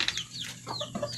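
Chickens cluck in a short, faint outdoor burst, a few quick clucks close together.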